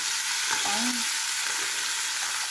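Talakitok fish frying in a small amount of oil makes a continuous close sizzle with light crackle, plus a brief faint voice-like sound partway through.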